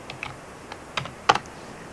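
A password being typed on a Mac computer keyboard, several light, close keystrokes in an uneven rhythm over under two seconds, with a couple of slightly louder presses near the end.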